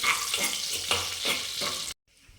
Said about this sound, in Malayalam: ഇട്ട് നന്നായിട്ട് ഇളക്കുന്നു